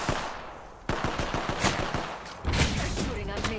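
Rapid gunfire from Apex Legends, several sharp bursts of automatic shots in quick succession, loud and close, with a brief lull between volleys.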